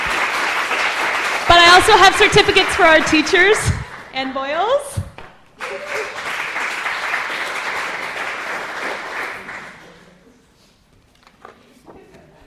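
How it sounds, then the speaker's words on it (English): An audience at a summer app-building program's demo day and closing ceremony claps for the students, a broad, steady applause that gives way to someone speaking over it before fading out near the end. "Give them a round of applause."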